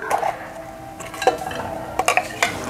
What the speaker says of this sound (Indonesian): Sekarang kita mau tumis bumbu halusnya sama daun salam,